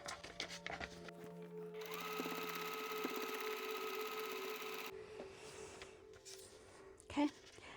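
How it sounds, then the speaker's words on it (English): A sewing machine runs steadily for about three seconds, stitching along a paper-piecing line on a quilt block, with quieter handling and rustling of fabric and paper before and after. "I'm going to go ahead and I'm going to sew along this line"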